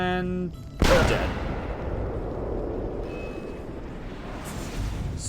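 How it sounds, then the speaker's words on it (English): One loud gunshot from a pistol in the video game Assassin's Creed Revelations, a sharp crack followed by a rumbling decay over a steady low ambience. "I'll use the gun"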